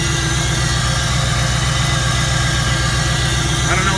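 Fourth-gen Camaro/Firebird LT1 V8 idling steadily right after starting, a loud, continuous low throb close by with no pauses.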